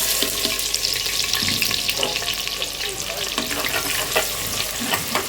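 Onions frying in a handi for chicken, giving a dense, continuous sizzle close up with scattered spoon clinks and scrapes, loud and even throughout.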